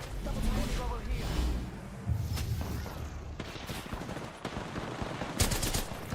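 Rapid bursts of gunfire from the video game Apex Legends, loud and dense with a few louder shots near the end, under a player's talk.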